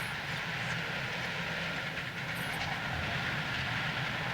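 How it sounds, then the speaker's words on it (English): A video game tornado makes a steady, broad roaring rush like strong wind, constant and loud throughout with a faint rumble underneath, no voices. "that's the sound of a tornado"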